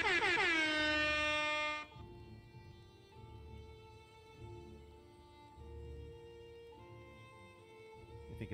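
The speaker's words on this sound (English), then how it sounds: "Let me know if you're hearing the air horn." A loud air horn blast sustains for nearly two seconds and then stops sharply, followed by a long stretch of faint background rumble with occasional soft tonal hums.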